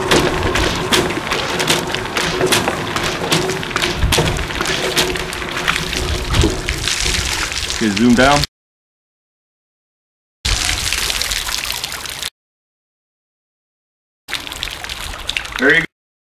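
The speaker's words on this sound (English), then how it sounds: "We're gonna fill that 1 gallon milk jug in about 12 seconds." River water lifted about 21 to 22 feet out of the Missouri River by a pump and pouring into a one-gallon milk jug, a loud continuous gushing splash that ends abruptly, followed by brief gaps and short bursts with a voice speaking.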